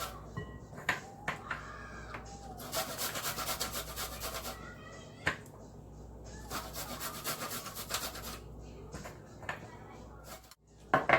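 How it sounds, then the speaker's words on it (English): Garlic rubbed against a grater for a Trini mango chow, rough scraping strokes coming in several bursts with pauses between, fairly close but soft. "Let's grate all this garlic in there."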